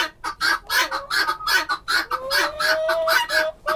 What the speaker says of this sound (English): you can hear the 2 guineas